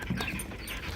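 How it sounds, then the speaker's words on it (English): Several dogs pant rapidly close by, with a faint whimper mixed into the steady breathy noise. "too many dogs here"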